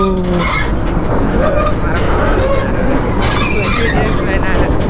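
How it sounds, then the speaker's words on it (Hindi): A train approaching near a rough dirt road in the Ajodhya Hill forest area of West Bengal, a loud continuous rumble with squealing tones, close by, under excited talk. "देखिए ट्रेन आपका आ रहा है, इतना जल्दी ट्रेन आ रहा"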